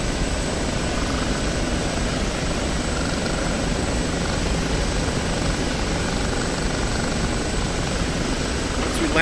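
An OH-58D Kiowa helicopter holds stable flight in the DCS World flight simulator, its rotor and engine making a loud, constant, even drone with a faint high whine that never lets up.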